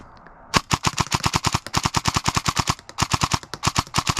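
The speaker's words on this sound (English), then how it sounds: "It just sprays BBs like a hose." Airsoft DSG gun spraying BBs in long rapid bursts, a near, sharp stream of evenly spaced cracks with one brief pause midway.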